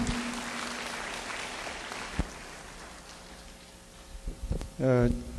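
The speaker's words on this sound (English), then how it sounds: "Would you welcome him with a round of applause for his kind hospitality?" Audience applause welcoming a host at a teachers' summer workshop, a soft patter of clapping that fades gradually, followed by a short tonal burst near the end.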